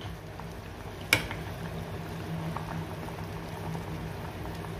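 A pot of water for cooking kanduli fish simmers at a steady boil, a soft continuous bubbling hiss with one brief sharp clack near the start; no voices.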